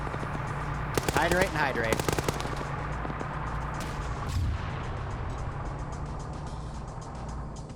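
Automatic gunfire in a multiplayer shooter game, aimed at a stolen armored truck, bursts loudly early on then thins to scattered shots amid vehicle and battle noise, with voices talking over it.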